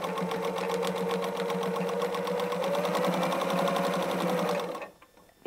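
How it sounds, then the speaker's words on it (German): A sewing machine stitches fabric for a quilted bread basket with a fast, steady mechanical chatter that runs close and continuous for several seconds, then stops abruptly, with no talk. "wir nähen unsere 5 cm Markierung einmal ab"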